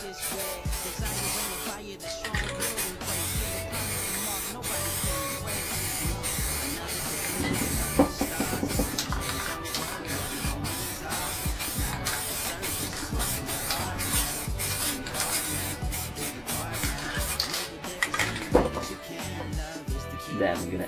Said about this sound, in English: I'm gonna use transparent spray can and just put it all over.